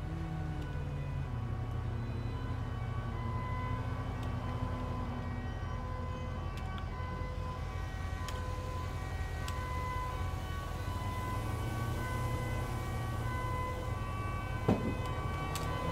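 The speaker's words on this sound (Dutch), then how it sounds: "daar heb je de AWB al. Met sirene." An emergency vehicle siren wails continuously in the FiveM police roleplay game, steady and moderately loud over a dense background hum, with no talking.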